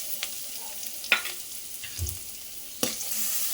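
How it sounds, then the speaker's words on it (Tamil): Onion and garlic frying in a pan for a South Indian karamani kulambu, with a soft steady sizzle, a few sharp stirring clicks and scrapes, and a low thump near the middle. "வெங்காயமும் பூண்டு நல்லா வதங்கிருச்சு."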